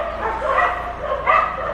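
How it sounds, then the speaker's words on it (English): Dogs bark and yip in two bursts over a short stretch, moderately loud and close, with no speech over them. "I think the dogs are giving me a competition today."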